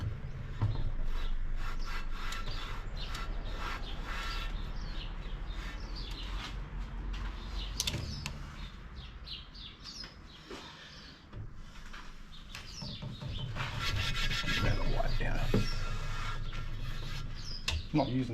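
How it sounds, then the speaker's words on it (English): Sandpaper scrubbing a rusty cast iron camp oven outdoors, a steady rasping rub in repeated strokes that grows louder toward the end, with birds calling faintly and someone talking at times. "am gonna try some sandpaper."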